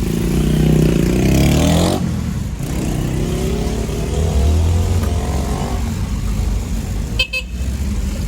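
A car engine rumbles loudly and steadily, its pitch shifting slightly over time, and a brief sharp toot sounds near the end.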